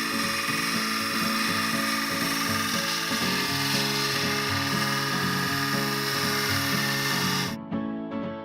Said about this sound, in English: he's just going to jump right on the bench grinder to get them started